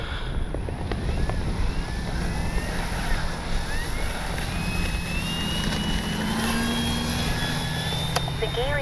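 A radio-controlled F4U Corsair warbird model plane takes off with a rising engine drone that climbs in pitch, heard outdoors under gusty wind noise on the microphone.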